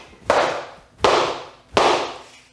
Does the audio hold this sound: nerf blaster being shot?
yes